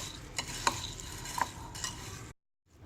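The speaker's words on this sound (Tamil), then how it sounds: "நல்லா கிளறி விட்டுக்கோங்க." Ghee-roasted peanuts (nei kadalai) being stirred in a pan with salt, giving a soft, steady scraping and rustle with faint sizzling and a few sharp clinks of the spoon, then stopping abruptly.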